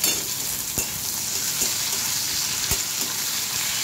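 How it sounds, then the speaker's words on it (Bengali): Chopped tomatoes hit hot oil over onions already fried reddish for a Bombay duck (loitta fish) jhuro, giving a steady loud sizzle with a few sharp spatula scrapes and clicks as they are stirred. "এবারে টমেটোগুলো দিয়ে দিচ্ছি"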